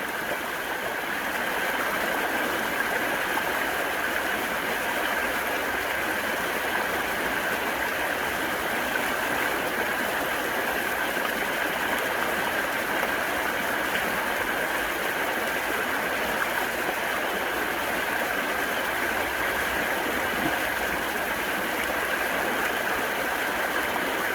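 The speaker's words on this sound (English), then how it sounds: "Just throwing that dirt onto the sluice, watching it disintegrate, watching the vortex, the cycles, the cyclones really going on inside of my sluice." Water rushes steadily through a gold sluice on an ancient riverbank full of cobbles, a continuous close hiss with no break while dirt is shoveled in.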